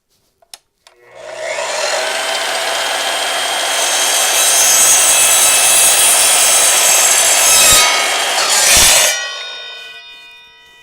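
An Evolution miter saw cuts through a piece of PVC, a couple of clicks followed by a loud, steady whining rasp of the blade lasting about eight seconds, then winding down.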